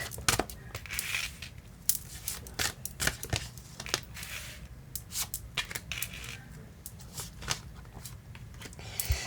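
Tarot-style cards are shuffled for a reading, making a series of quick, crisp riffling snaps and flicks at close range, arriving in irregular bursts with short pauses between them.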